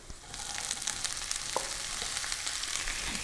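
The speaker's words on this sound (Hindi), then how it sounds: "लहसुन यहाँ पर सौते हो रहा है, आप देख सकते हैं" Garlic sautés in a pan with a steady, close sizzle throughout, broken by a few light clinks of the utensil, and no voices.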